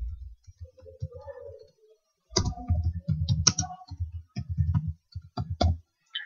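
A name is typed on a computer keyboard in short irregular bursts of crisp, close key clicks separated by brief pauses, with no talking.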